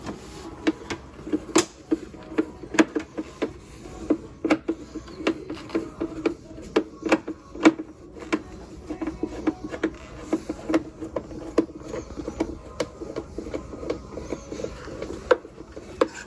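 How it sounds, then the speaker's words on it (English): A screwdriver works screws out of a Panasonic WhisperRemodel bathroom fan, giving a run of close, sharp clicks and scraping ticks in an irregular rhythm over a faint background hum, with no talk. "So there are these screws right here that gets the fan out."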